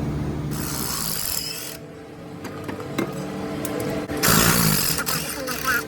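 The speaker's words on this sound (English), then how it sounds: "I'm gonna get my 16mm long deep well wobble socket on the top of there and remove the bolts" A ratchet fitted with a 16mm deep well wobble socket clicks and whirs while drive shaft bolts are removed on a Chevy Equinox, with bursts of rapid ratcheting and metallic clatter nearby.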